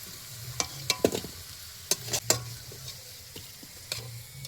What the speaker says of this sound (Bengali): ওই মাছ ভাজার মতো আলুগুলো ভালো করে মাখিয়ে নিয়ে এবার এই তেলেই ভেজে দেওয়া হচ্ছে